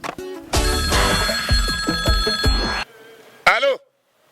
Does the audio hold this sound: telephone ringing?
yes